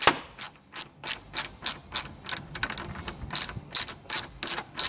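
Ratchet with a 10mm socket backing bolts out on a vehicle, a quick steady series of sharp clicking strokes, about three per second, close and loud with no talking.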